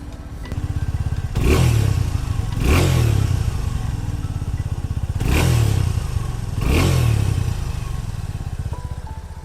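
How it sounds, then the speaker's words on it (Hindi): Suzuki V-Strom SX 250 motorcycle exhaust, idling close by with a steady thrum, broken by four sharp throttle blips that rev up and fall back, heard alone without talk. "तो ये कुछ था वी-स्टॉर्म का एग्जॉस्ट नोट।"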